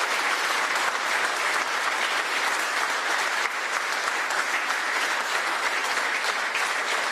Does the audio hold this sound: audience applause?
yes